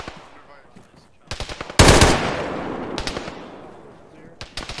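Gunfire in the military video game Arma 3 comes as bursts of close rifle shots and one heavy, booming blast, with rolling echoes and further rapid shots after it.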